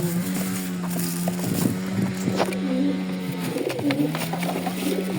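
Pigeons coo steadily inside a loft, a close, continuous low warbling with a faint engine hum in the background.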